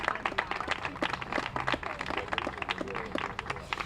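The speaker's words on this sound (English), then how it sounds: "let's give them a big round of applause" An audience at a Lemonade Day Louisiana kickoff event at the Governor's Mansion applauds the youth participants, producing sparse, distinct individual claps of moderate loudness that sound like a small crowd, along with some faint background murmur.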